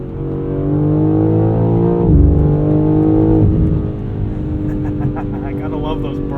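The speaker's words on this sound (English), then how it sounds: "I gotta love those burbles between shifts" Engine and exhaust of a 2023 BMW M3 Competition xDrive Edition 50 Jahre, heard from inside while driving: a loud, steady engine drone that drops as a shift comes through, then a lighter rumble with crackly exhaust burbles, with some talk over it.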